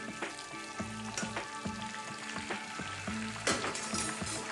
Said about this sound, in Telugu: దీంట్లో ఇప్పుడు కొంచెం ఆయిల్ వేసుకుందాం మనం. ఇది ఫ్రై అయిపోయిన తర్వాత మనకి 2 మినిట్స్ ప్రాసెస్ అండి ఇది